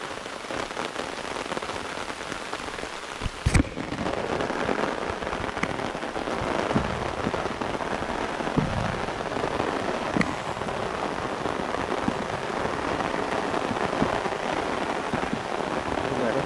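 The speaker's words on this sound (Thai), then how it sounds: "ฝนตก" Steady rain pours down over a plot of rural farmland lined with banana trees, a dense constant hiss with a few sharper drops and knocks, while someone speaks briefly and quietly beneath it.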